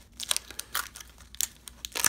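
Foil wrappers on 1989 Donruss junk wax baseball card packs are torn open and crinkled in quick, soft bursts, faint and close, with no talk.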